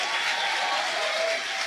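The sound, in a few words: congregation applause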